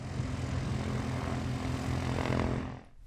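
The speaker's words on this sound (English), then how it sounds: "some participants are actually arriving by plane" A propeller plane arriving at Purdue Airport for the Purdue Aviation Day fly-in gives a loud, continuous engine drone with a rising whine, then fades briefly at the end, with no talk.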